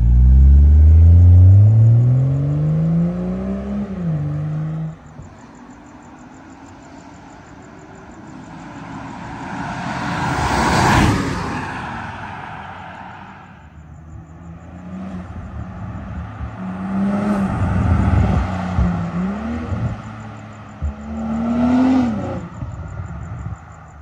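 A 2022 BMW M340i with a custom single-exit exhaust makes several drive-by passes, with a deep engine revving and falling away, then a louder whooshing pass and later engine swells rising and fading in the distance.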